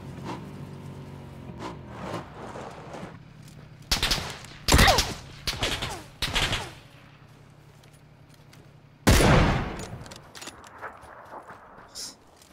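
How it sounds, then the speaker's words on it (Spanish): Gunfire in the video game PUBG, fired at a player from middling distance: several sharp bursts of shots, a rapid cluster followed by a single longer volley, loud against a quiet background with faint footsteps and clatter. "Y alguien me dispara de medio lejos"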